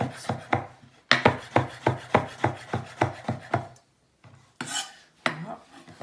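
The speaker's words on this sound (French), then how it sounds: "on revient prendre toutes nos pétales et on va les couper en brunoise" A knife chops tomato petals into tiny brunoise cubes on a board: a quick, even run of close, crisp taps, a short pause, then a few more scraping strikes.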